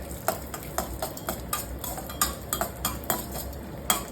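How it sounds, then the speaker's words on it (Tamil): Cashews and raisins roasting in a pan, with a metal spoon tapping and scraping the pan in quick, regular strokes over a low background hiss, close up and without talk. "முந்திரி ஓரளவுக்கு வறுபட்டதும் இதில் காஞ்ச திராட்சை சேர்த்து வறுத்துக்கிறேன்."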